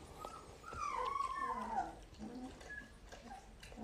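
A small dog whimpers and whines in a drawn-out, plaintive tone, fairly soft and near, with a few short yips.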